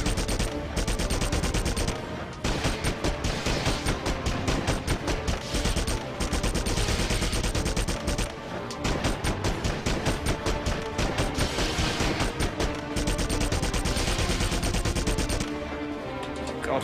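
Sustained heavy gunfire from an enemy's powerful gun in the PS2 game Red Faction, loud and nearly continuous for the whole stretch with a few brief gaps between bursts.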